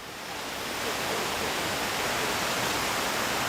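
Steady broadband rush of a waterfall pouring at the foot of a cascade, close and loud, swelling slightly in the first second then holding constant throughout with no voices.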